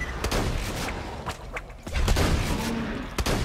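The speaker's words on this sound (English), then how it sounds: "this shotgun's pretty damaging" Shotgun blasts in Borderlands 2, several sharp loud shots at irregular intervals amid game combat noise.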